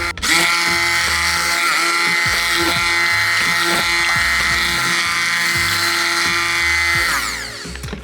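A stick blender whirs steadily through a thickening watermelon scrub soap batter, a loud continuous motor drone with slight pitch shifts that winds down near the end.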